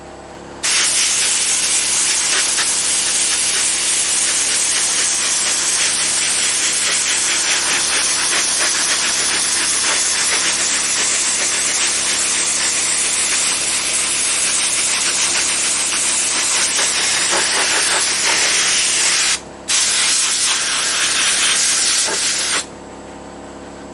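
Sandblasting gun with an 8 mm nozzle stripping paint from a surface, a loud, steady hiss of air and abrasive lasting over twenty seconds with one short pause near the end.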